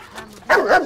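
A dog in a family home scene from the Argentine comedy film Esperando la carroza II gives a sharp, close bark that quickly turns into a second yelping bark, both brief and loud.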